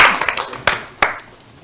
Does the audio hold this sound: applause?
yes